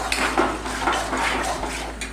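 Okra being turned in a frying pan with curry leaves, a steady run of metal spatula scrapes and clinks against the pan, close and fairly loud, repeating every half second or so with no talk.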